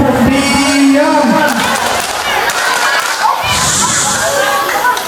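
A large crowd at a mosque groundbreaking and Islamic boarding house inauguration attempts the 'tepuk diam' clapping routine, giving loud, dense, uneven claps mixed with constant chatter and children's voices.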